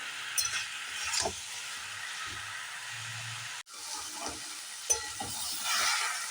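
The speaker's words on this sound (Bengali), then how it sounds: "খুব ভালোভাবে কষিয়ে নিতে হবে এইভাবে।" Young jackfruit stir-fried with spices and salt in a pan, making a quiet, constant sizzle with frequent scraping stir strokes and one sharp clack midway, and no talk.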